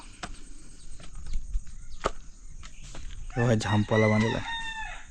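A rooster crows once in a Konkan village in the morning, close and loud near the end, after scattered household knocks and a brief spoken phrase.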